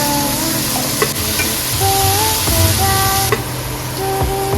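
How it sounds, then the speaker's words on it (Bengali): Chopped mushrooms frying in oil in a wok, a loud steady sizzle with stirring scrapes and knocks, while tonal beeps or horn-like tones sound intermittently in the background. "এর মধ্যে দিয়ে দিচ্ছি মাশরুম, কুচিয়ে রাখা মাশরুমকে হালকা করে ভেজে নেব।"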